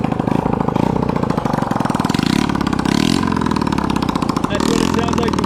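A Honda Ruckus scooter idling with a cracked, snapped muffler, a loud, close, raspy exhaust popping in a fast steady rhythm, with a brief blip partway through.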